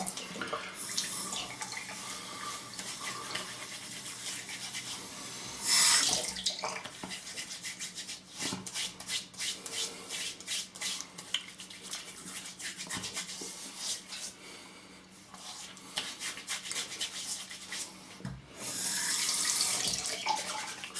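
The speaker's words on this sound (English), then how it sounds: "So I'm going to get all the soap out the base of this brush as much as I can." A shaving brush is rinsed under a running bathroom tap, with steady water splashing and rubbing for most of the stretch and louder bursts of flow near the start and the end.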